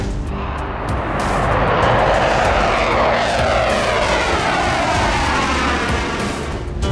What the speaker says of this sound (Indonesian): 2. Dassault Rafale. Next, ada jet tempur multiguna asal Prancis, lebih tepatnya dibuat oleh perusahaan Dassault Aviation.